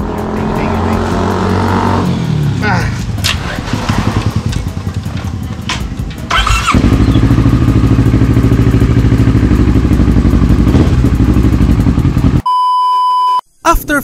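Kawasaki Ninja 650 (ER-6f) motorcycle engine running loudly and steadily at close range, with a clattering start, a deeper idle rumble after a few seconds, and a sharp electronic beep near the end.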